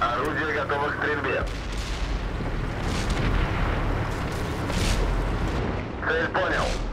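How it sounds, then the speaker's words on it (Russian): Heavy tank cannon fire and rumbling battle noise in the World of Tanks game, booming under a crew voice that speaks at the start and again near the end. "Орудие готово к стрельбе."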